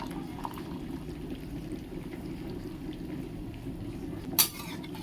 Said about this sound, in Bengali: সামান্য আর একটু জল দেব